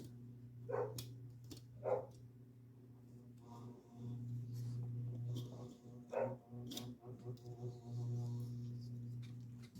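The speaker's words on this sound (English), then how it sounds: "there's a dog out there barking." A dog barks a few times at a distance, sharp isolated yaps over a steady low electrical hum and some faint scraping.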